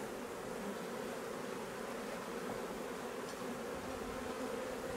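Honey bees at a busy hive during a summer honey harvest make an even, unbroken drone, close and steady with no other sounds.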